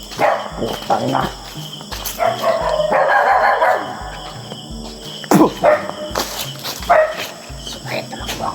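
A dog barks in short bursts at night, with crickets chirring steadily underneath and people talking over the scene.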